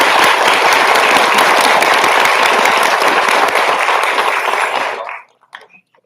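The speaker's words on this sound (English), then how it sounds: "So let's give them a round of applause." An audience at a staff council meeting and awards ceremony gives loud, sustained applause, a thick roar of clapping that stays strong for about five seconds before cutting off abruptly into near silence with a few stray sounds.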